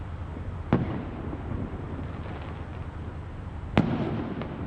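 Bonfire night fireworks burst twice, several seconds apart, each a sharp distant crack over a steady wash of outdoor noise and crowd rumble.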